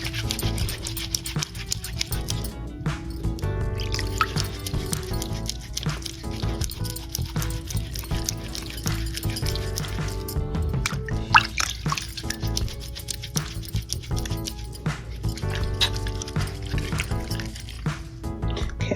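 Hands scrub with a hard, crumbly castile olive oil hot process soap and water, giving wet squishing and dripping sounds in irregular bursts, close and fairly loud throughout with no talk.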